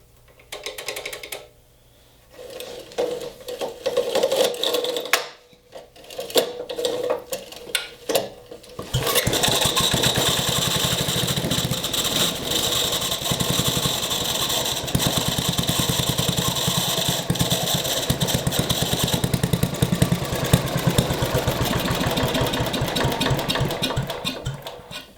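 A 1960s-era Briggs & Stratton small engine found in a barn, choke on, coughs through a few faint pulls before catching and running steadily at a loud, even idle for the rest of the clip.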